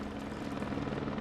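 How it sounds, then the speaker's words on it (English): A firefighting helicopter flies over a fire, giving a steady, dense rotor and engine roar that stays constant throughout. It sounds fairly distant and soft, with no voices. "The helicopter now flies over the fire."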